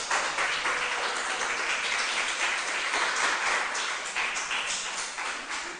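Church congregation applauding during a Sunday morning service, a steady wash of many hands clapping at even loudness throughout, with no talk over it.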